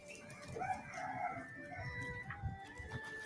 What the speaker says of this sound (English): I hear a rooster.